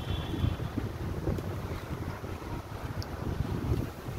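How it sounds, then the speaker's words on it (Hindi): A cool wind blows outdoors and buffets the microphone in a steady, gusty rush of low rumble, with no voices. "ठंडी ठंडी हवा चल रही है,"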